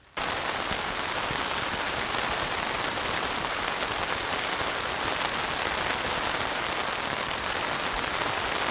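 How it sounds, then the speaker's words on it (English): Heavy rain pounds steadily on an Onetigris Iron Wall hot tent at night, a dense, constant hiss and patter with no letup and no voices. "still raining very hard actually"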